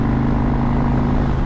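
A loud, close motorcycle engine runs with a steady throbbing rumble throughout, holding a constant pitch rather than clearly revving.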